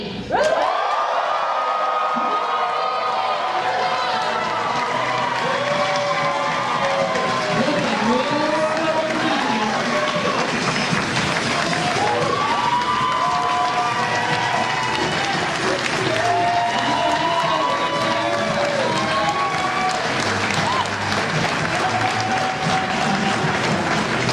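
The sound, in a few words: loud crowd cheering and applause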